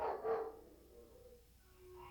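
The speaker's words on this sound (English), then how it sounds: "A dog was barking real mean in apartment 9." A dog barks sharply a couple of times near the start, then the room falls quiet with faint background hum.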